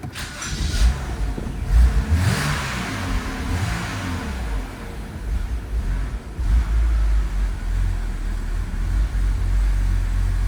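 A BMW E90 330xi with a suspected vacuum leak revs loudly and roughly, rising and falling several times before settling into a steady, rumbling idle, close and alone.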